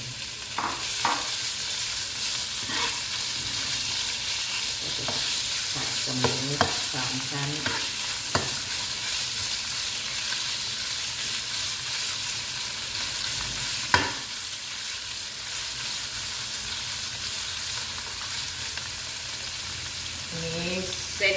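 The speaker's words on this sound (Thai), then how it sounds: "ทียมเริ่มจะสุก เราก็จะใส่หมูลงไปค่ะ" Pork belly hitting a pan of cooking garlic, stir-fried with steady sizzling and intermittent scraping of a spatula, frying noise constant throughout with no voices.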